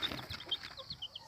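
Young chicks cheep in quick, high, overlapping peeps, close and fairly faint, with a little rustling underneath.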